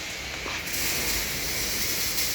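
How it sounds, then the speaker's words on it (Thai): A gas cutting torch roars steadily while heating rust-eaten rivet heads on a corroded vehicle chassis, a continuous loud hiss with a slight surge after the first moment. "เราต้องใช้ ไฟนะครับใช้แก๊สตักนะครับ"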